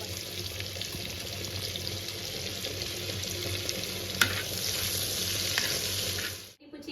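Butter and a spoonful of oil sizzle steadily in a pan for homemade chicken pizza, a close, continuous hiss with one sharp click partway through, before it cuts off abruptly at the end.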